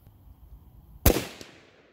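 A single sharp rifle shot cracks at a distant target, loud and sudden after a quiet stretch, followed by a brief decaying echo.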